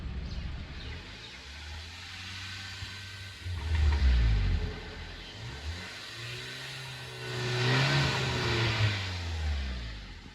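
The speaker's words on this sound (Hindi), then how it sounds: "उसके बाद आपको इंजन स्टार्ट करने के बाद अपना गाड़ी का एग्जॉस्ट देखना है और उसको एक्सेलरेट करना है" A used car's engine running then revved twice, the exhaust note rising and swelling in two accelerating bursts over a steady close idle rumble.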